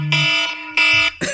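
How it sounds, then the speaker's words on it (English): A loud electronic alarm goes off in repeated bursts, each a harsh buzzing tone lasting about a third of a second, with short gaps between them and a lower voice-like sound underneath. "I feel like the alarm is part of the show at this point."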